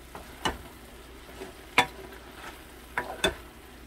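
Softened cabbage stirred in a pan with a spoon, a low background sizzle broken by four or five sharp scraping knocks of the spoon at uneven intervals, close and fairly quiet, no voices.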